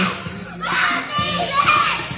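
A crowd of children at an organized event shouts a team cheer together in two loud, ringing bursts of voices.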